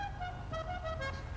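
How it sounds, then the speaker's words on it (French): Car horn honks in GTA V Online role-play, two or three short tonal blasts over a steady engine rumble, moderately loud and without talk. "écoute mon klaxon"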